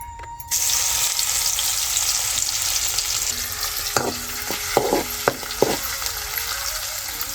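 Grated coconut and garlic hit hot oil in a pan, giving a steady broadband sizzle close by, with a few sharp clinks of a spoon against the pan in the second half.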